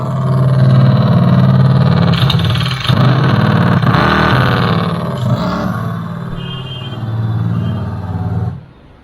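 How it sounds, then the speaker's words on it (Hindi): A loud, steady motorcycle-like simulated engine drone from a Komaki Ranger electric cruiser bike, swelling and easing with the throttle, continuous for several seconds before cutting off abruptly. "जैसे अगर आप रेस देते हो तो बाइक वाली साउंड आपको मिलने लगेगी"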